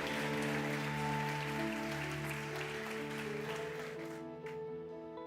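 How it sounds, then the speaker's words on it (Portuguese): A church congregation applauding during a service: dense, steady clapping from many hands that carries on throughout over sustained musical tones, fading slightly toward the end. "Você pode aplaudir a Ele nessa noite?"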